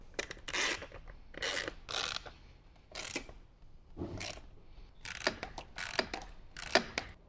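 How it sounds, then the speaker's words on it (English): Bolts being tightened on a 2014-or-later Harley-Davidson during a stereo install, heard as close, irregular bursts of ratcheting clicks with short pauses between them and no talking. "Now we can start tightening all the way."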